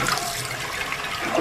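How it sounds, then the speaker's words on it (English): A household toilet flushes with a steady, loud rush of water that holds evenly for about a second and a half, with no voices over it. "Go ahead and flush it."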